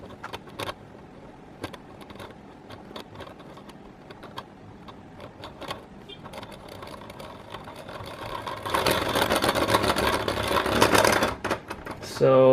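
Beyblade spinning top whirring after release from its launcher, following scattered clicks and handling noises, then a loud buzzing spin-up that rattles on for several seconds; talk is also heard.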